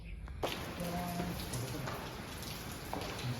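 Rain falling suddenly during a workday, a dense steady patter that starts abruptly and continues throughout with a few faint voices in the background.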